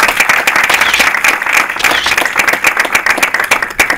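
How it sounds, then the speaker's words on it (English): An audience at a HUD and NAREB partnership event gives a steady round of applause, dense clapping filling the room at even loudness for the full stretch with no talk over it. "So let's give them a round of applause."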